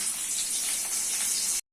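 Chopped onion hitting hot oil in a pan, giving a steady, bright sizzle and hiss that holds evenly for about a second and a half before cutting off abruptly, close and alone.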